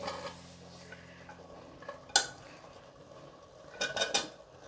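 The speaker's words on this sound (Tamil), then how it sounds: "இப்போ வெஜிடபிள்ஸ் எல்லாம் ஒன்று ஒன்றா சேர்த்துடலாம். பீன்ஸ் சேர்த்துடுறேன், உருளைக்கிழங்கு, கேரட்டு," Beans, potatoes and carrots being dropped into a pan for millet biryani, with a few sharp metallic clinks and scrapes of a utensil against the pan over quiet kitchen background.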